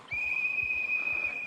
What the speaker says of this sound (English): The whistle noise is something I would love to tweak.